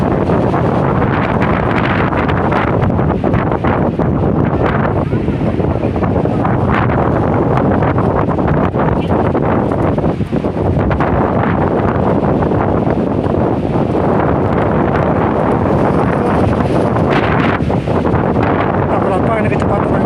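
Strong wind roars at Kintamani, Bali, a loud continuous buffeting gust battering the microphone for the whole stretch, with voices faintly present beneath it.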